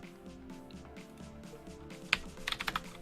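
A burst of keystrokes on a computer keyboard arrives late and quiet over a steady low hum, with a handful of quick clicks.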